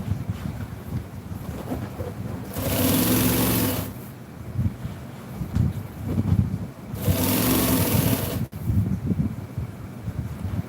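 A sewing machine stitches a seat cover for a 1966 Chevy truck, running in two steady, loud bursts of a few seconds each, with quieter handling and rustling between them.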